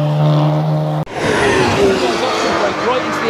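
Race cars at the Nürburgring brake hard into a corner at a spectator area. A loud engine note with steady harmonics cuts off abruptly, then broadband tyre and engine roar follows close by.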